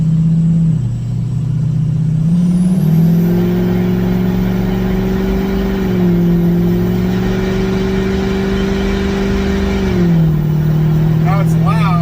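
Diesel truck with a stage 1 Power Max turbo and 175 injectors accelerating from a takeoff, a loud steady engine drone heard from inside the cab whose pitch steps up through gear changes, with a rising turbo whistle over it.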